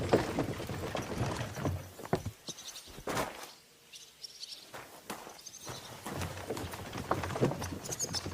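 A horse's hooves clip-clop at a walking pace in Kingdom Come: Deliverance II, with irregular, fairly close knocks and faint birdsong, pausing briefly midway before resuming.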